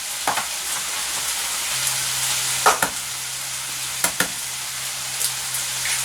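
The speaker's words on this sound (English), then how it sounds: "That's going to cook down our mushrooms and the rest of our scallions." Sliced mushrooms and scallions sizzle steadily in a hot pan, a constant bright frying hiss with a few sharp pops and clicks from stirring, close and alone with no talk.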